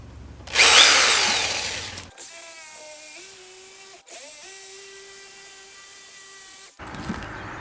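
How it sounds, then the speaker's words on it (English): A power saw cuts into a pumpkin: a rough, loud grinding burst, then a steady high motor whine with a brief dip before it stops. "We're sawing a pumpkin now."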